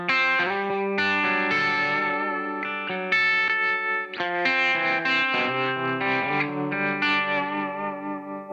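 Electric guitar with a clean amp tone colored by pedal effects, chorus-like shimmer and slight grit, chords and notes ringing continuously at steady volume.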